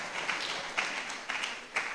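Audience applause after a presentation at a public forum, a steady dense wash of clapping with a few louder swells, heard alone and fairly near.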